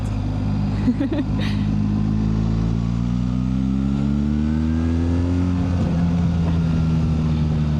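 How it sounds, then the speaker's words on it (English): A 2025 BMW R 1300 GSA Adventure motorcycle engine revs steadily up through the gears, then downshifts with a quick throttle blip, loud and close under constant wind rush. "I love this bike. And that little blip it makes when you downshift."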